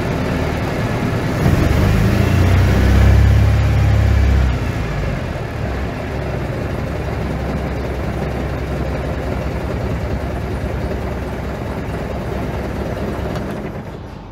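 Prewar Riley Brooklands replica engine idling around 1000 RPM, a steady low rumbling throb that swells briefly near the start and then holds an even, loud, continuous tone.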